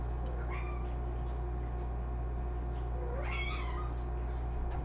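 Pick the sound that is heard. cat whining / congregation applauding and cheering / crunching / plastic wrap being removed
cat whining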